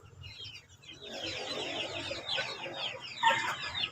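Native chickens cluck and chatter in a busy, overlapping stream of calls, fairly close and moderately loud, with a sharper squawk near the end and no talking.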